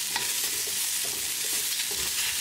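Oats vegetable soup with salt, cumin, crushed red pepper and black pepper being stirred in a pan over medium heat, a constant close sizzle with soft scraping strokes of the spoon.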